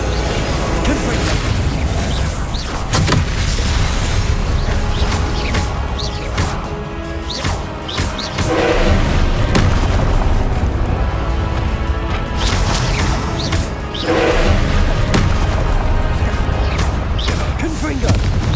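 Confringo fire spells blast repeatedly in Hogwarts Legacy, a string of booming fiery explosions and crashing impacts spread across a busy combat soundscape, loud and close, with voices talking intermittently among the bangs.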